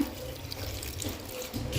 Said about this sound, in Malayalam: അങ്ങനെ നമ്മൾ ഇതിലേക്ക് ഒരു ഗ്ലാസ് വെള്ളം കൂടെ നമുക്ക് ഒഴിച്ചു കൊടുക്കാം